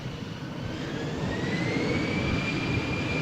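EasyJet jet airliner taking off from runway 13 at Malaga Airport on a stormy morning, a steady loud roar of engines with a rising whine building throughout, heard alone.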